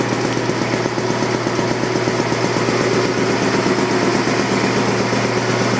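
A Champion air compressor runs steadily as it pumps up toward a 165 psi cut-out, giving a loud, continuous motor drone with a fast, even chugging pulse and no talking.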